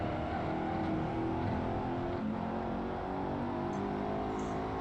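Race car engines in the Assetto Corsa video game, a Ferrari and a Lotus running close together, with a steady, loud engine drone that holds throughout without a clear pass-by, and no talking.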